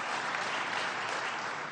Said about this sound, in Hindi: आप भी तालियां बजा के उनका अभिनंदन करें